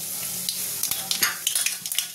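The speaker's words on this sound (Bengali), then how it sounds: "এবার দেবো কালো জিরে ফোড়ন" Nigella seeds (kalo jeere) crackle and sizzle in hot oil in a wok, a steady close hiss with a series of sharp pops and spatters toward the end; no talking.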